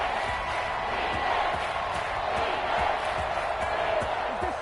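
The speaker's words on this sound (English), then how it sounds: "This crowd turning up the decibel level." A stadium crowd in an American football video game roars in a steady, dense wash of cheering and noise that holds at an even level throughout, with no clear break.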